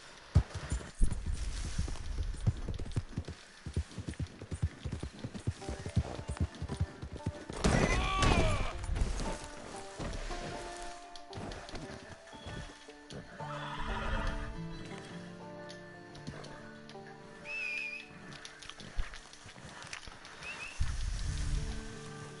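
Horse in Red Dead Redemption 2 Online clip-clops steadily through the whole stretch and whinnies loudly partway in, over rustling game ambience with no talking.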